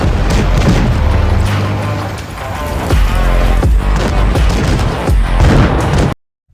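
A Type 61 tank in World of Tanks Blitz takes heavy hits and blows up amid dense, loud booming and gunfire, ending abruptly in silence.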